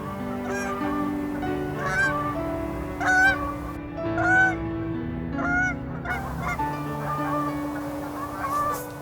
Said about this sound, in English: Every time I hear the call of Canada geese now